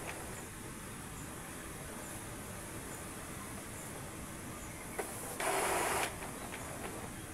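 An Epson L360 inkjet printer runs an ink charge cleaning cycle, giving a steady low mechanical hum and whir throughout with a brief louder burst of pumping or carriage noise near the end.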